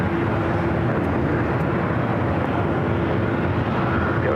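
Airliner taking off from runway 24 left at LAX: a steady, broad roar of jet engines that holds level throughout, loud and unbroken, with no voices.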